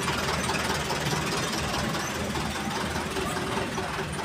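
An MF tractor engine idles steadily close by, a constant dense rumble with a mechanical knock and vibration that holds at even loudness throughout.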